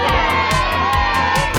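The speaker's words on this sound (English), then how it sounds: "Peppa and George shouted with excitement." Cartoon children shout and cheer with excitement after a football goal in a family backyard game, a loud, dense burst of joyful voices with rhythmic thumps underneath.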